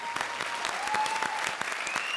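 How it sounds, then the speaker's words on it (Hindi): Studio audience applause on a comedy show, a continuous patter of many hands clapping at moderate level, steady throughout with a faint tonal whistle drifting through. "एक बार फिर से जोरदार तालियां।"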